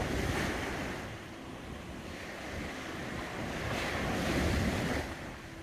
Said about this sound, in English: just enjoy some of the waves and watching the ocean